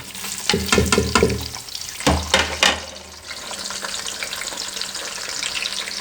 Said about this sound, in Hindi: ये प्याज भी हमने इसमें डाल के फ्राई कर लेना